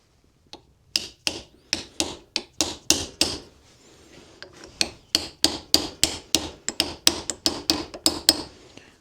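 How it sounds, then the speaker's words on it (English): A bearing lid on a vintage Massey Ferguson levelling box is tapped into its recess with a hammer: about twenty sharp, close metallic knocks in an uneven rhythm, short pauses between some, with no talking. "So we'll just put the lid back into its little recess, give them a tap around the edges."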